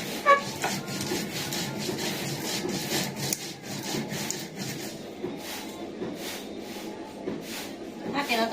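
Rhythmic back-and-forth grinding on a stone in a village kitchen, a steady scraping rub repeated in close, even strokes while someone talks over it.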